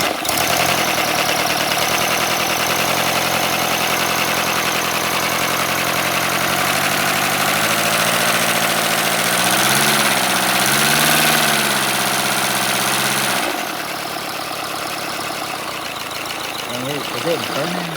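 A 3D printed flat four engine driving a generator runs steadily and loudly up close, its harmonic drone wavering in pitch midway before easing slightly, with a voice speaking over it.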